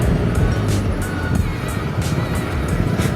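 Automatic car engine revving up as the driver presses the gas, a steady broadband roar with low rumble, heard close from inside or beside the vehicle with no talk over it.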